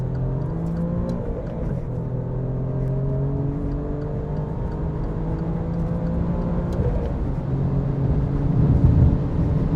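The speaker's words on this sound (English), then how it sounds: "This car accelerates very fast." A 510-horsepower Alfa Romeo Giulia Quadrifoglio accelerating hard on the Autobahn, its engine a loud, continuous drone with tones that climb gradually, heard from inside the car over a steady rush of road and wind noise.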